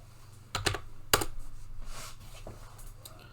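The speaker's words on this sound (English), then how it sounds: "Let's type in Ti." Close, crisp keystrokes on a computer keyboard come in a few short clattering bursts over a quiet room hum, with no voices.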